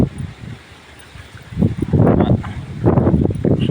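Strong gusts of wind sweep through leaves on a hillside farm: a soft rustle swells into loud, rushing waves of wind noise, rising and falling twice.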